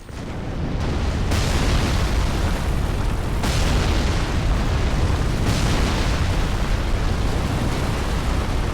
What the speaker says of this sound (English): the ballista will actually shoot the giant worm